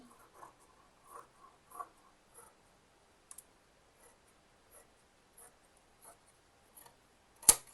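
Scissors snipping through kurti fabric, a series of faint, sparse clicks spaced across the quiet with one sharper snip near the end.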